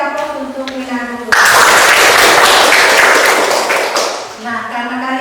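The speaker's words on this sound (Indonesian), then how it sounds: "Kita beri aplaus untuk Mina dulu." A classroom bursts into applause for a student, a loud wash of clapping that starts suddenly after a teacher's voice, holds for about three seconds and then fades as talking returns.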